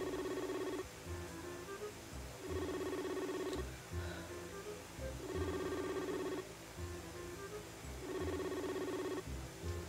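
A phone rings for an incoming video call, a repeating electronic ringtone in three bursts about every two and a half seconds, loud and close, with no talking over it.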